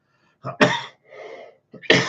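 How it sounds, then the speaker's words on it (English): A person coughs a few times up close, sharp bursts separated by short pauses, with a rougher throaty sound in between. "Off I go, coughing already"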